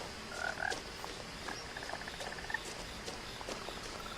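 A frog croaks softly a few times in a quiet, hushed background scene from the video game What Remains of Edith Finch, no talking.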